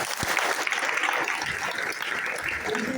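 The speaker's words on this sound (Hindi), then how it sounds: "सबके लिए जोरदार ताली होना चाहिए।" A crowd applauds at a stage-sharing business event in Thane, a dense, continuous patter of many hands clapping with no voices standing out, sustained evenly for a few seconds.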